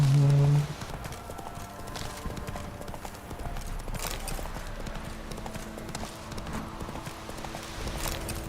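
Horse Roach galloping in a Witcher video game, a strong, fast, continuous drumming of hooves carrying on for several seconds with little else over it.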